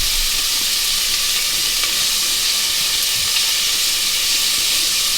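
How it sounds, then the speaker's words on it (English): Onions fry in oil in a pan with a loud, dense, continuous sizzle and hiss that stays even and close throughout, with no talking. "we're going to start with our onions and mushrooms. Right, and with a little bit more oil, and then in with our"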